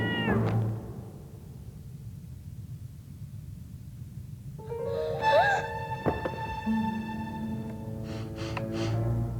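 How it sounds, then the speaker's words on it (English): A kitten meows several times, close and clear, its calls rising and falling over quiet background music. "He's a bad kitten, Cousin Tabitha."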